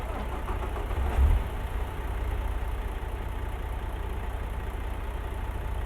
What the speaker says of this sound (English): I can show you what it looks like with the engines on